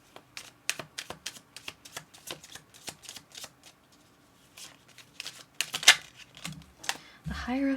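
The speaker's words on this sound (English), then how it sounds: "While I was shuffling" Tarot cards shuffled by hand in a quiet room, a close run of crisp riffling snaps and soft slaps in an irregular rhythm, pausing briefly before a few louder flicks and a short murmur of voice at the end.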